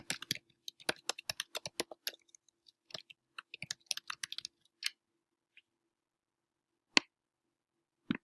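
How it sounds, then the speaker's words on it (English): Someone typing on a computer keyboard, a quick run of close, crisp key clicks in uneven bursts, then a few sparse, isolated taps after a pause, with no talking. "And type your message."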